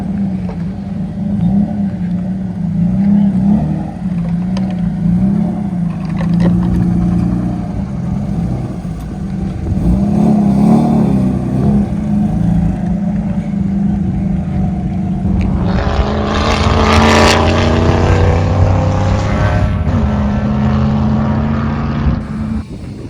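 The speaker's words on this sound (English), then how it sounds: "Like a high RPM misfire." A race car engine at high RPM in a 24 Hours of LEMONS endurance race, a loud steady drone with wavering pitch and a rough, uneven edge, rising into a harsher roar near the end.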